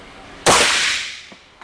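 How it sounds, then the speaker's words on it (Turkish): A single sharp gunshot from a SIG 1911 Super Target pistol, loud and close, with a crack followed by a decaying echo tail, and faint small knocks afterward. "bir iki tane size sesini duyduracağım tabancanın inşallah"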